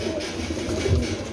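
Low, soft pigeon coos murmur close by, a brief burbling rumble with a slightly louder coo near the end.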